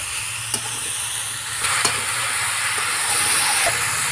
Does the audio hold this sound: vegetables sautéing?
yes